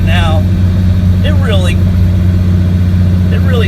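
A diesel engine labors uphill in a steady, loud drone that holds throughout, with brief voice-like sounds over the top.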